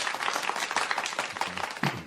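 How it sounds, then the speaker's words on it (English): Applause rises in a studio during a radio show, with dense, sustained clapping at moderate loudness, and a voice can be heard briefly near the end. "let me give him a rousing round of applause"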